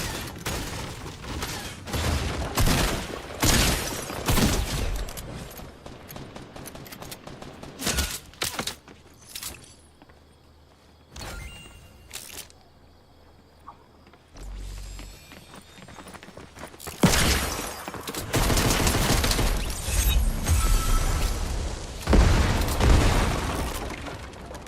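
Gunfire in the Fortnite video game: loud, dense bursts of rapid shots and impacts in clusters, with quieter pauses between volleys and a heavy stretch of sustained firing near the end.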